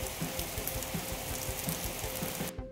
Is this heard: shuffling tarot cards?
no